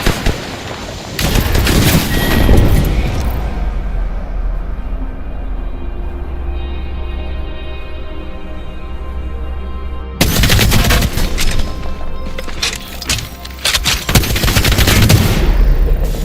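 Gunfire in an Apex Legends battle royale match: loud bursts of rapid automatic fire up front, a ringing tonal stretch, then another heavy barrage of shots and booms.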